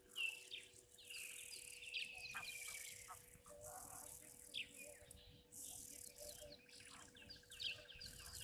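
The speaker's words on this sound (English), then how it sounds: "Spark Salad, you say the bird calls at Juma are fantastic." Birds call and chirp at the Juma waterhole in the wild, with repeated faint-to-moderate tweets and trills over a steady insect hum in the background.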